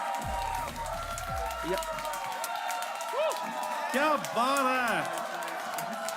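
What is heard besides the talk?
audience applause at comedy show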